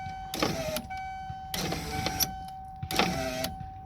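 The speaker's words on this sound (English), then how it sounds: "But watch, the whole thing is going to spin now." An electric power window conversion motor in a car door whirs in three short bursts of about a second each, separated by brief pauses, close and fairly loud with a steady tonal hum underneath.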